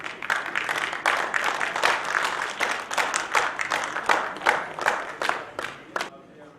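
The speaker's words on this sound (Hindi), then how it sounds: "जोरदार ताली हो जाए इस बच्चे के लिए" An audience at a police martyrs' tribute event claps for a child singer. The applause is dense and rhythmic, many hands beating roughly in time, and it thins out and fades near the end.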